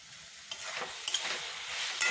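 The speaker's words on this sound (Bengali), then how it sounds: "মশলা ভাজা হয়ে আসছে।" Spices sizzle faintly in a pan for fish curry while a utensil stirs them, giving soft, steady frying noise with a few brief scraping accents and no voices.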